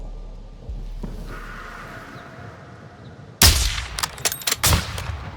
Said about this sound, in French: Je lui ai mis une balle.